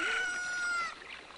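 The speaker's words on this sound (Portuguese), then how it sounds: "Com essa galinha a gente despertou ele." A chicken in Zelda Ocarina of Time gives a short, bright crowing squawk, loud for about a second before it fades out.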